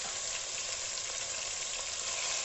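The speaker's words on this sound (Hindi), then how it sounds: "अब लहसुन अदरक के पेस्ट को मैं हल्का सा लाइट सा ब्राउन करूँगी।" Garlic and ginger paste sizzles steadily in a hot pan as it is fried toward light brown, a dense, even crackle with no pauses and no voices over it.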